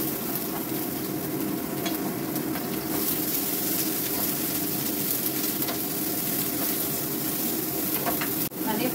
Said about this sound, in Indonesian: Akan aku pakai untuk menumis bawang putih sama bawang merahnya dulu.